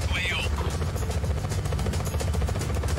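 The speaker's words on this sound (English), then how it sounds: "Oh, helicopter." Helicopter rotor in the video game Just Cause 4, a steady loud droning whir running throughout under excited talk and game sounds.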